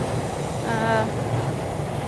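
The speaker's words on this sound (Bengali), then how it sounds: "এখানে অনেক শব্দ হইতেছে ট্রেনের" A train passing near Ueno in Tokyo, with a steady close rumble and a brief metallic wheel squeal rising over it for a moment.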